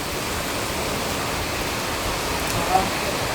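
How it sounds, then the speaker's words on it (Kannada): Heavy rain pouring steadily, a dense, even hiss that fills the whole stretch without pause, fairly loud and close, with no voices over it. "ನೋಡಿ ಗೈಸ್, ಇಲ್ಲಿ ಎಷ್ಟು ಜೋರಾಗಿ ಮಳೆ ಬರ್ತೈತೆ."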